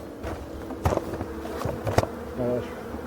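Young honey bees buzz around a hive entrance, a close, wavering drone with several individual insects zipping past in short, louder swells.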